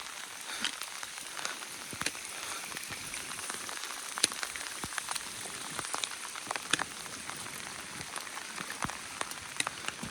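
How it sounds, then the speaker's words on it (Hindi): Heavy rain pours steadily on a mountain trek toward Madhyamaheshwar, a dense hiss with scattered sharp drops striking close surfaces, continuous and fairly loud with no voices. "बहुत तेज बारिश है।"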